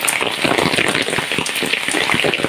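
Heavy monsoon rain pours over a village field in a dense, continuous hiss with scattered pattering drops, steady and loud throughout.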